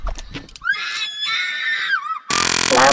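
A girl screams hysterically in long, high, wavering cries, loud and close, ending in a sudden harsh burst of noise.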